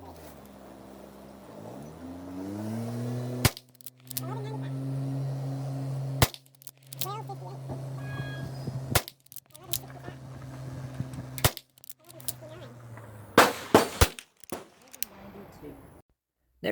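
.22 rimfire rifle shots ring out over a chronograph, several loud sharp cracks spaced seconds apart, with a steady low hum and talk between them.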